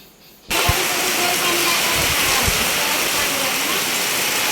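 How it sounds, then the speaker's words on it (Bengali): Steady, dense rain drums on a tin roof of a mud house, a constant hissing patter that starts suddenly and continues evenly, with a few low thumps underneath. "টিনের উপর যখন বৃষ্টি পড়ে এই আওয়াজটা শুনতে খুবই ভালো লাগে"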